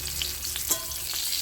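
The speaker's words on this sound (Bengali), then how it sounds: "প্রথমে খোসা সহ আলুটাকে আমি ভেজে নিচ্ছি।" Skin-on potatoes frying in oil over a smoky clay stove give off a soft, even, continuous sizzle with faint stirring ticks throughout.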